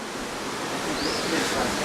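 Steady broadband rush of a waterfall at a canal-side cabin ruin in a state park, a constant loud wash with no breaks and no talk.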